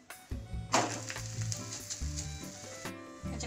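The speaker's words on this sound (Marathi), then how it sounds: "आता पराठा तव्यावर टाकून घेऊया" A cauliflower paratha hits an oiled, hot iron griddle and sizzles sharply, settling into a steady close crackle with faint clinks and no talk.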